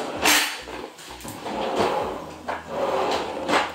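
Kitchen drawers in a newly fitted kitchen being slid open and shut several times in succession, with woody thuds and rolling runner noise at close range and no talking.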